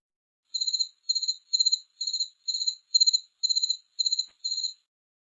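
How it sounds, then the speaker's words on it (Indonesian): A cricket chirps nine times in a steady, evenly spaced rhythm, each chirp a short, bright trill, loud and close against total silence. "Suara jangkrik."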